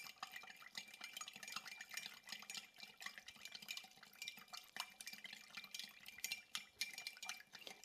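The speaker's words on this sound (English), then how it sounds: "I'm going to give this a good stir to dissolve the sugar" A bar spoon stirs sugar into a cocktail in a glass, giving a faint, continuous swirl of liquid with light clinks and scrapes, steady and close with no voices.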